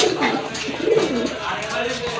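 A short-beaked male pigeon coos close by in a few low, throaty rolling calls, while someone talks over them.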